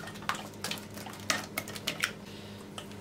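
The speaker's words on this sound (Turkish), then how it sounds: "Son kez şöyle bir karıştırayım." A utensil stirring chocolate sauce in a pot, heard as quiet, irregular metallic clinks and scrapes against the pot's sides, close by in an otherwise calm kitchen.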